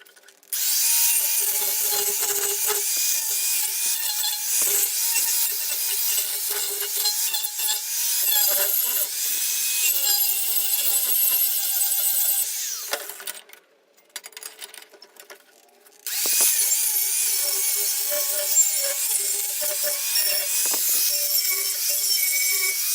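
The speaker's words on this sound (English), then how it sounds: "I've just got the flapper wheel on here, and I'm just going to deburr the edges" Angle grinder with a flap disc deburring metal edges on a coal forge repair, a loud steady high whine with gritty rasping that briefly drops away mid-way before resuming at full strength.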